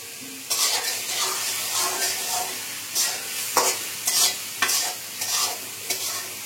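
A spoon repeatedly scrapes and stirs food in a frying pan over a low sizzle, in irregular strokes close by with no talk.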